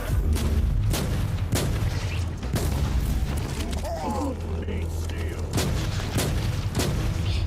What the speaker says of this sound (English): Let's go for a neato headshot on this guy